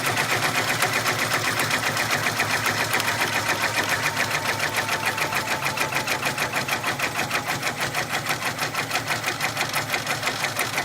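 An embroidery machine stitching a flamingo design onto a sun hat, running with a fast, steady mechanical needle rhythm that holds constant and close without pause throughout.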